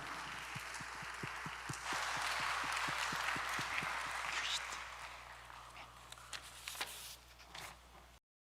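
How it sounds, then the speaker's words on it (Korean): A church congregation at a Sunday worship service gives a round of applause in a large sanctuary, fairly soft and diffuse, with a rhythmic clapping pulse early on and a lingering wash of hands that fades before cutting off. "우리 하나님께 영광의 박수 올려드리도록 하겠습니다"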